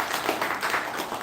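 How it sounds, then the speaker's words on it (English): Audience applause at a Toastmasters club meeting, a steady dense patter of many hands clapping, fairly close, with no talk over it. "Could you please have a big round of applause for everyone?"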